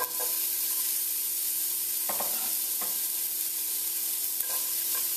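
Diced onion frying in a hot pan for Caribbean-style collard greens, a soft steady sizzle with a few quick stirring scrapes and a light clink, close and unvoiced.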